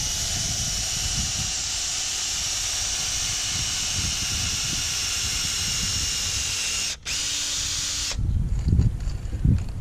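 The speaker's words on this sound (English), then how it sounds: "The idea is to drill a hole" A loud, steady high-pitched power drill whine runs continuously while drilling a hole in hard, concrete-like ground for a tent peg, cuts out briefly, then stops, leaving low rumbling handling noise.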